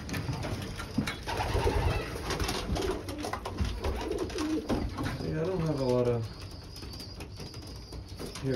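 Racing pigeons cooing steadily in a loft, soft throaty coos repeating up close with a continuous murmur of birds throughout.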